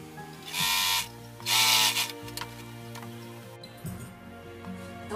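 Domestic sewing machine stitching a thin seam on fabric, a steady mechanical whir with two louder bursts of rapid needle clatter, close and alone.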